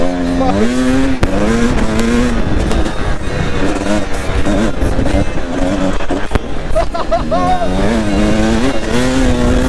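KTM two-stroke and four-stroke motorcycles ride green lanes around Ashford, their engines loud and close, rising and falling in pitch as the throttle opens and closes.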